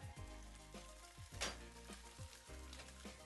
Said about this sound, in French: Dans une poêle chaude, faites fondre une noisette de beurre et une cuillère à soupe de miel.